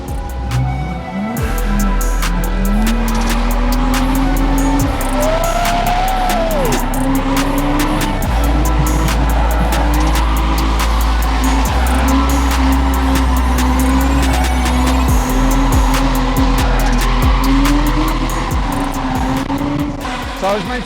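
Stunt driver Terry Grant's car skids under a loud, continuous engine roar whose pitch rises and falls, with brief tyre squeals, while people talk over it.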